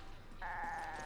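A goat in the video game Resident Evil 5 gives one sustained, nasal bleat that starts partway through and holds steady to the end over a low game background.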